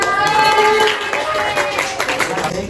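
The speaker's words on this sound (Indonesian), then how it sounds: "Beri tepuk tangan dulu untuk Talita." Classroom students clap for a classmate, a light scattered patter of hands mixed with children's voices chattering and calling out throughout.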